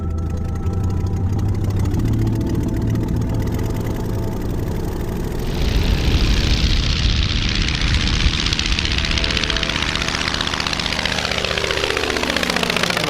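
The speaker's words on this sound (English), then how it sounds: "Taxi down the end of the runway, full throttle, take off, pull back to about 1700 RPM for climb" The Kinner radial engine of a 90-year-old 1929-era airplane drones loudly through takeoff at full throttle, its slow-turning rumble swelling as power comes up and holding steady into the climb, with no one talking.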